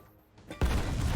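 A frag grenade detonates in Warhammer 40,000: Rogue Trader, a single sudden blast about halfway in after near silence, followed by a sustained rumbling, crackling tail.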